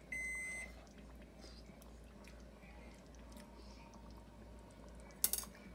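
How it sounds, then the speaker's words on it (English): A home kitchen oven sounds its alarm, a short run of loud electronic beeps at the very start, then a faint, quiet room with small soft handling noises and a brief clatter near the end. "That's just my oven going off."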